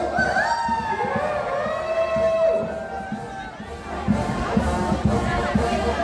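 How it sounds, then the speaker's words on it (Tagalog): A crowd at a school founding anniversary celebration cheers and shouts continuously. Excited voices and whoops rise and fall, with loud yells and some chanting throughout. "Ang lakas ng sigaw eh."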